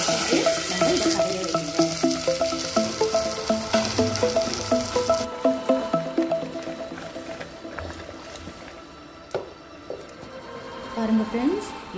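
Dried red chillies and mustard seeds tempering in hot oil for a spinach and lentil dish crackle loudly for the first few seconds, then the sizzle fades to a quieter hiss, with a person talking over it.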